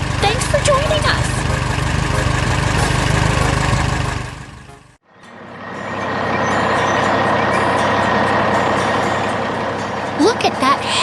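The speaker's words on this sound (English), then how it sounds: "Look at that heavy-duty red truck moving through the city." A heavy-duty red animated truck moving through a city, with a loud rumbling engine and repeated reversing beeps, briefly cutting out before resuming with a steady drone.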